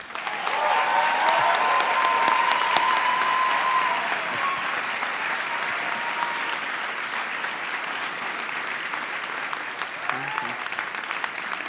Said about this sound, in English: Another round of applause for Héctor Galván